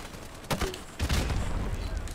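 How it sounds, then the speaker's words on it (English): Gunfire in the Call of Duty: Modern Warfare Remastered video game, two sharp bursts of shots about half a second apart followed by a sustained rattle of fire and rumbling booms, fairly loud in the foreground. "Oh, there's the gun again."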